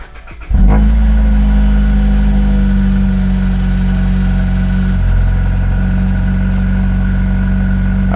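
A Mazda 6 engine, just fitted with new NGK spark plugs, cranks briefly, catches and settles into a steady, close idle with a smooth continuous hum that holds for several seconds.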